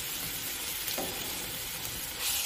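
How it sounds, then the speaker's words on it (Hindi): Garlic paste sizzling in hot oil in a pan while making palak saag, a steady close hiss of frying with a faint stir near the middle. "इसमें मैंने ऑयल डाल दिया है। अब इसमें लहसुन का पेस्ट जाएगा।"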